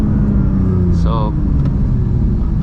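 A Porsche 992 GT3 Touring with manual gearbox rumbles steadily from inside the cabin as it is driven hard on a rural mountain road, a loud low engine drone with a brief rising whine partway through.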